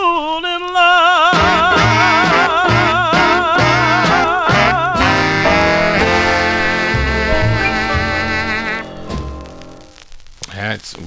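A 1954 record on the Federal label plays as a vocal group doo-wop song: sung lead over backing harmonies and rhythmic accompaniment, ending as the music fades.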